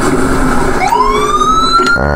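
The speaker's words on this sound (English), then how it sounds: "I'm going to turn the siren off, obviously." A police car siren wails loudly in GTA 5, a close, continuous rising electronic tone over a running vehicle engine, cutting off abruptly near the end.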